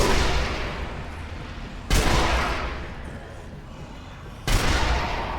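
Sniper rifle shots in Sniper Elite: Nazi Zombie Army, a video game, two loud booming reports a few seconds apart, each followed by a long rumbling echo that slowly fades.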